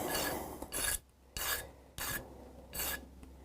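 File rasping over the edges of a guitar nut during a Hofner Galaxie restoration, four bursts of stroking with short pauses between, close and clear with no talk.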